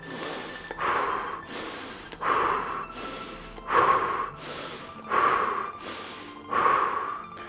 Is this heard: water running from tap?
no